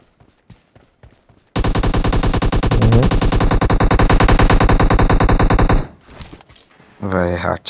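Rapid automatic gunfire from the mobile game PUBG Mobile rattles loudly for about four seconds, with a few scattered shots and short bursts before and after.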